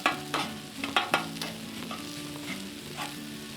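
Small pieces of chicken searing on a Blackstone griddle, a steady soft sizzle with a few sharp scraping and tapping hits from a spatula near the start, fairly close and with no talking.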